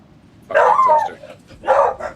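Dogs barking in the video game Warhammer 40,000: Rogue Trader, two loud close barks about a second apart.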